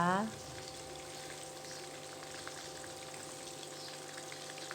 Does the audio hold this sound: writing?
no